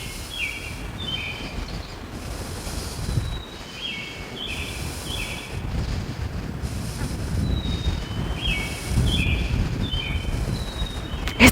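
Wind blowing outdoors, a low steady buffeting rush against the microphone, with faint bird chirps recurring over it; no talking.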